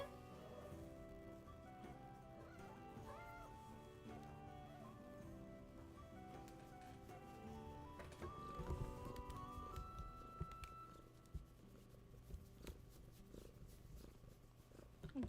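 Soft, continuous purring from a cat close by, a low rhythmic rumble with occasional faint rustles and clicks around it.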